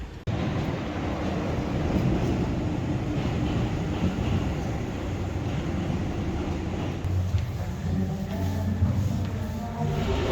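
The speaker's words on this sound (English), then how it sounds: "we're gonna be taking the metro around town." A Paris metro train rumbles continuously on a ride through town. The carriage noise is a steady, dense roar that holds for about ten seconds at a moderate level.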